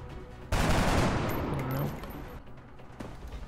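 A loud burst of automatic gunfire erupts in the video game XCOM, rattling for about a second and a half before fading into quieter game ambience with faint trailing shots.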